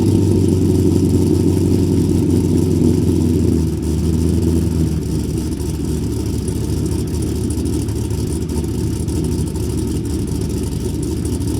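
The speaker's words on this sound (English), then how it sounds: "So here is a cold start." A Corvette Z06 with a Hooker Blackheart exhaust fires up cold, a deep, loud, steady rumble at high idle that eases slightly after a few seconds and holds on without any talking.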